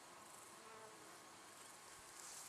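Honeybees buzzing at a busy hive entrance in mid-May, a continuous dense drone of many wings, steady and close, with no talk.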